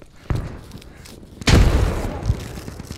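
A grenade explodes in the Squad video game on the Fallujah map, giving a deep booming blast that stands out over ongoing battlefield noise, with an earlier thump and a later smaller pop nearby.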